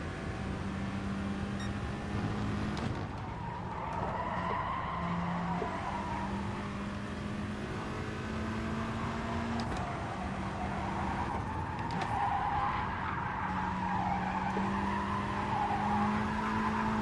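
A race car in GT Sport brakes hard at Fuji, tires squealing in sustained tonal skids over a constant engine drone, the squeals rising and fading repeatedly across the run.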